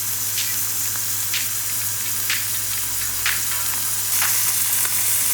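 Lion's mane mushroom browning in a pan with garlic gives a steady close sizzle and crackle with soft stirring scrapes, heard alone.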